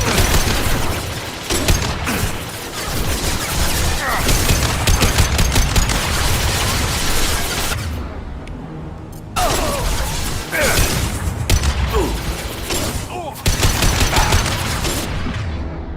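Mass Effect 2 Legendary Edition firefight, dense rapid gunfire with bursts of automatic weapons, impacts and booms, loud and nearly continuous with brief lulls.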